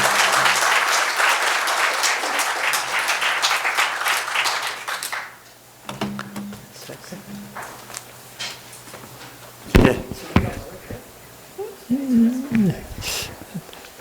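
An audience claps after a neuroscience symposium lecture: dense, loud applause for about five seconds, then it stops and a few scattered sounds and a brief voice follow.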